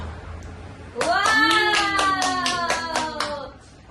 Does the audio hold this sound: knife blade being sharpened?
no